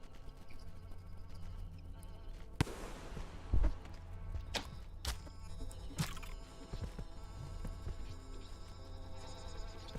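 Bomb explosion in the video game Rain World, a sharp firework-like burst with a brief bang that stands out over a steady game ambience of hum and throbbing background.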